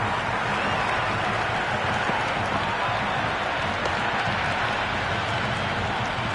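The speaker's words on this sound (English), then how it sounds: "Will you listen to that crowd? They are loving this." A packed cricket stadium crowd in Multan roars and cheers during a T20 match, a dense, continuous wash of noise at full volume with no break.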